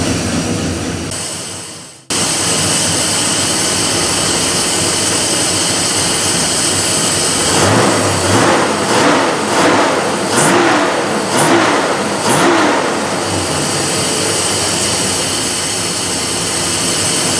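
A 1962 Studebaker engine fitted with FITech fuel injection starts after a brief fuel pump whir, then idles steadily and loud, with several sharp throttle revs rising and falling in the middle before settling back to a smooth idle.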